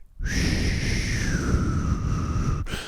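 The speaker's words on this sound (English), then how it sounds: "And the fish flute sounds like this." A breathy toy fish flute from an action figure sounding one sustained, airy whistle tone that holds steady for a couple of seconds, then cuts off.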